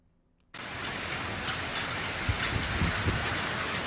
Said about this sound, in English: a surprise winter hailstorm batters South Carolina